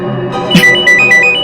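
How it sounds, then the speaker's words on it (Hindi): An incoming call rings on a phone during a Hindi TV crime drama: a loud, close electronic ringtone with repeated short bright beeps in a steady pattern after a brief thump. "ये डॉक्टर मानवी ने तो खुद ही फोन कर दिया"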